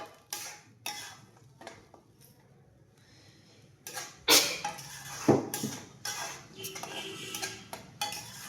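Fish curry masala stir-fried in a pan: sharp spatula scrapes and clanks against the metal come in irregular bursts, close and fairly loud, with a brief quiet stretch between them.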